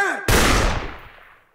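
A single loud burst of gunfire from a film's military battalion scene cracks out sharply and rings away in a long decaying echo, with no talk over it.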